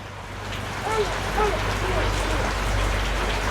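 Steady rain falls in a continuous broadband hiss that holds through the whole stretch, with a low hum underneath and people talking faintly over it.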